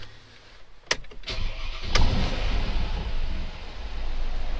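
Mercedes G63 AMG with side exhaust pipes starting up, a couple of sharp clicks and a crank followed by a loud, deep, rumbling engine note that holds steady close by.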